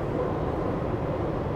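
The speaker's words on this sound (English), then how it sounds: "the train's going by" A train passes nearby, heard as a steady, dense low rumble that fills the short stretch without letting up.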